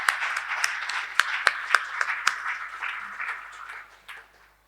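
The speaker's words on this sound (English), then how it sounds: "So another round of applause." Audience applause at a market research seminar: a dense patter of clapping with a few sharper claps standing out, thinning and fading away toward the end.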